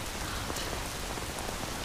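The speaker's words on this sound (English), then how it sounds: "Princess, it's raining heavily." Heavy rain pours steadily in a dense, even hiss with soft patters of drops, loud and close throughout with no voices.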